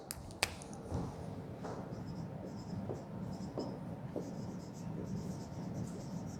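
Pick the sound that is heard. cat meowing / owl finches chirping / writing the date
writing the date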